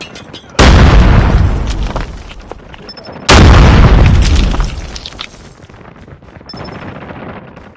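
Grenade blasts in Call of Duty Mobile on the Space Station map, two loud, booming explosions a few seconds apart, each with a long rumbling decay, over faint game background noise.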